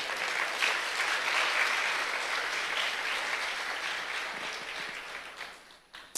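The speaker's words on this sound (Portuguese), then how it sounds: "Quem crê nisso, aplauda Jesus." A church congregation claps during a sermon on Psalm 78, a dense, sustained round of applause that stays strong and then thins out toward the end.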